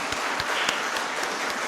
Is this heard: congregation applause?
yes